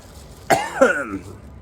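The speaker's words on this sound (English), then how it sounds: "That cough was because I just got applesauce." One person coughs after swallowing hot sauce: a sharp double cough, a quick forceful burst followed by a second raspy hack, close to the mic in a quiet room.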